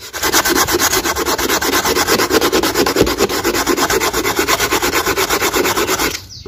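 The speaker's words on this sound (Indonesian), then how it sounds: "nah ini ini juga saya amplas nah seperti ini" Steady rhythmic sanding strokes rasp across a plastic bucket, rapid and close, continuing without pause before stopping abruptly.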